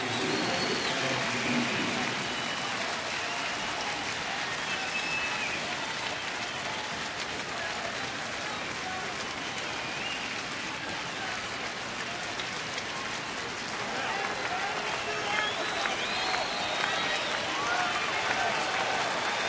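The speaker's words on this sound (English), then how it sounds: "A lively crowd this evening." Lively evening crowd at a baseball stadium, a dense steady roar of many voices and applause-like noise that stays fairly distant and unchanging throughout, with no clear break.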